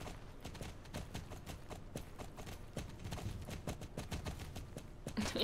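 Horse hooves clip-clop steadily in the online riding game Star Stable, an even trotting rhythm of soft close hoofbeats over quiet background.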